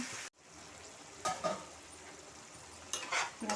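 Tomato and onions sizzling in a pan for a fenugreek-leaf egg curry, a soft steady fry broken by a few scraping stirs of a spoon against the pan, close and fairly quiet.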